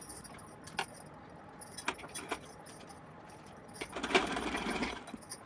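Sewing machine stitching lace onto a small doll dress, short faint runs of mechanical clatter followed by a longer louder burst of stitching near the end, quiet room otherwise.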